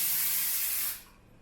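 A can of baking spray coats a cake pan in one loud, close hissing burst of about a second, then cuts off to near quiet.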